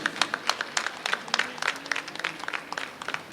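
A church congregation claps during the opening-day Mass of the Gunadala Lourdes Mata festival, a sparse, uneven applause of individual hand claps spread around a hall, with no speech over it.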